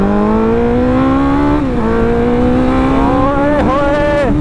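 Suzuki Hayabusa motorcycle engine revving loudly and close, its pitch climbing steadily with brief dips between pulls, a continuous strong roar throughout.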